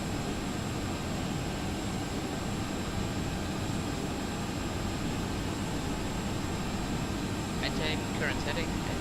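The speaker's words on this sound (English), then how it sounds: "Come on, engine, spool back up" A steady roar of jet engines on an Icelandair Boeing 757-200 in a flight simulator fills the whole stretch, loud and unbroken, with faint high chirps near the end.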